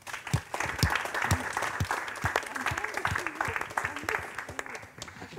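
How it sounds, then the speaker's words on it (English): An audience gives the panelists a round of applause at the close of a discussion, with dense, steady clapping filling the room while a voice speaks over it. "Big applause for the panelists."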